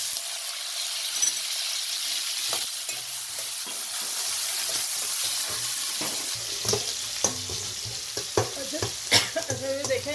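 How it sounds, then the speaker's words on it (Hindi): Potatoes sizzle in hot oil in a pan with garlic and green chillies, a steady frying hiss under occasional stirring scrapes and clinks of a utensil against the pan, growing busier toward the end. "अब इसमें मैं आलू फ्राई कर दूँ।"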